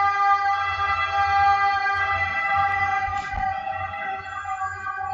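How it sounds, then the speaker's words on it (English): An ambulance siren in a noisy city holds a steady, tonal wail throughout, fairly distant and mixed with low traffic rumble, with no talking heard. "Ambulance going past, so I'll just wait a minute."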